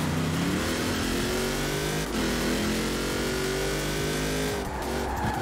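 A Honda race car in Forza Horizon 4 screams at high revs through a race, engine pitch sliding and rising with gear changes and tire squeal, loud and continuous with no voices.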